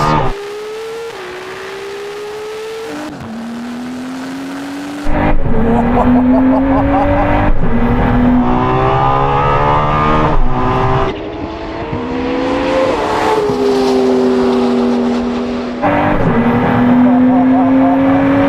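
A Ferrari SP3 and a Pagani Huayra race side by side, their loud engines revving hard through rising gear-change sweeps with brief dips between shifts, close and sustained, while people talk over the noise.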